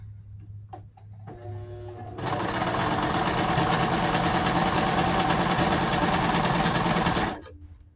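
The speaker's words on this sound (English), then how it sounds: "I figured since the jeans have stretch to them, I needed to use the zigzag stitch." A home sewing machine runs a zigzag stitch through stretch jeans, starting with a brief slower whir, then settling into a loud, steady mechanical hum for about five seconds before stopping abruptly.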